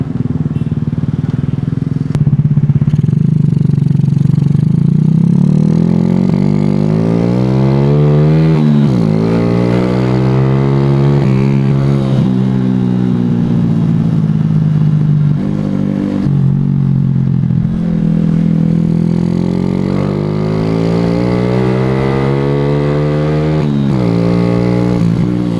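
A Suzuki Shogun SP 125 racing motorcycle is ridden, its engine note steadily rising and falling through the gears as it accelerates, loud and close throughout.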